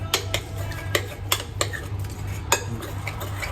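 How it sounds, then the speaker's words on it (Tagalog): Chicken batter being mixed in a bowl for Thai fried chicken, with sharp, irregular clinks of a utensil against the bowl over a soft, steady background hum and no talking. "I-mix ko lang po to hanggang mahalo siya lahat."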